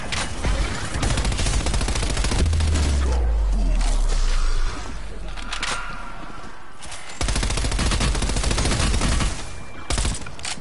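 A grenade explodes in a PS4 shooter with a deep, rumbling low boom that swells and slowly fades beneath loud, rapid bursts of gunfire, which pause briefly and then resume.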